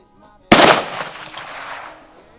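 One Remington 700 7mm Magnum rifle shot fired at an outdoor range, a sudden loud close blast after a quiet moment, trailing into a long decaying echo.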